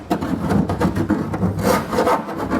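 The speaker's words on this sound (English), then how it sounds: "I'm going to go back with a file and just kind of get the burrs off the edges here" A hand file rasps along burred metal edges of a B and W fifth wheel underbed kit install on a 2019 Ford F-250, giving close, repeated scraping strokes in an uneven rhythm with no talk.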